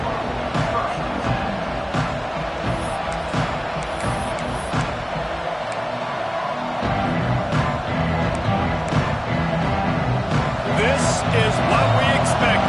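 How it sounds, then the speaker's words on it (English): Roaring football stadium crowd during a game broadcast, a dense sustained cheer with swells and scattered shouts beneath a commentator talking throughout. "This crowd ready to make its presence known."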